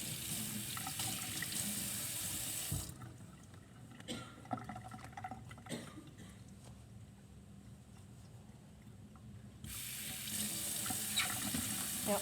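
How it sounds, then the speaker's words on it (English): A tap runs into a sink while hands are wetted before a surgical scrub, a steady close rush of water that thins out for several seconds as the hands interrupt the flow, then returns to full strength. "So I'm gonna wet my hands first."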